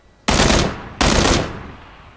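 Two loud bursts of automatic gunfire in PlayerUnknown's Battlegrounds, each lasting about half a second with a brief gap between them, close and sharp, with no talk over them.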